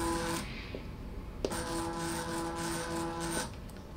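Mini lathe converted to an electronic leadscrew, jogging slowly: a steady low mechanical hum with faint whine tones, fairly quiet, broken by a brief click midway and stopping near the end.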